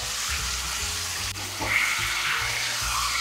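Meat sears in a hot pan with a loud, continuous, dense sizzle and crackle, close up and steady throughout, with no talking.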